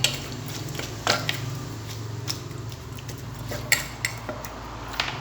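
A utensil stirs som tam papaya salad in a dish, making light clinks and scraping taps at irregular intervals over a low, steady background.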